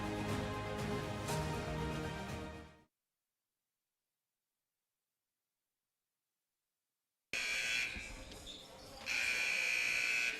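A basketball game buzzer at Central Wyoming College sounds in two loud electronic bursts separated by a long silent gap, over crowd noise and talk in the arena.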